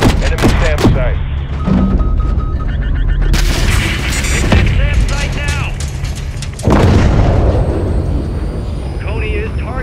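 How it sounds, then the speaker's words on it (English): A missile strike on a SAM site in Call of Duty Modern Warfare III brings heavy booms and explosions, with gunfire, aircraft drone and radio-style voices layered over the loud battle. "Hit that SAM site with a missile."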